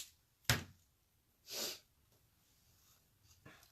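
A person with a cold lets out one sharp, close sneeze. A couple of fainter sniffs or breaths follow it in an otherwise quiet room.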